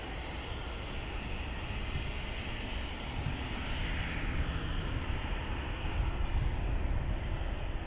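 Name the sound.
Ryanair airliner engines at Luton Airport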